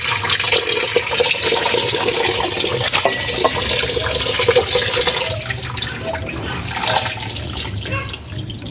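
Salted cabbage for kimchi being rinsed in water, with a steady, close splashing and sloshing running throughout, loud and continuous with no talk.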